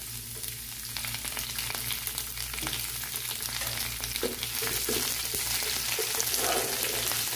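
Chopped garlic, sliced dried red chillies and curry leaves frying in oil in a pan, giving a continuous moderate sizzle with occasional stirring scrapes, close by and without speech.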